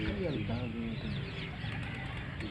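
Pigeons at a breeder's loft, soft cooing and clucking bird calls heard close by, with someone speaking over them.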